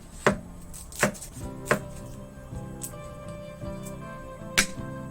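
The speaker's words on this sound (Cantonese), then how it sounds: "薑切片。" A knife slices ginger on a chopping board in a few sharp, separate knocks spaced about a second apart, close and fairly quiet over faint background sound.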